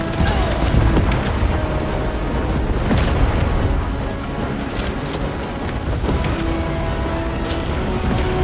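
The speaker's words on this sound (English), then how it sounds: "Heads up! Grenade out!" A grenade detonates in the sci-fi shooter Starship Troopers: Extermination, a heavy booming blast among ongoing game noise and sharp impacts, loud and close, with no speech.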